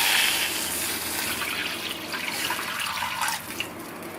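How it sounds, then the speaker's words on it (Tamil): About half a cup of water is poured into a kadai for making kesari, giving a steady splashing, running-water sound close by, with no talking. "1/2 கப் அளவு தண்ணி சேர்த்துக்கலாம்."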